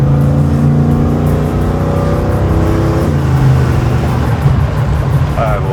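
Hemi-powered Jeep Cherokee accelerating hard at full throttle, the engine note climbing steadily, dropping at a shift, then pulling up again, loud and close from inside the vehicle.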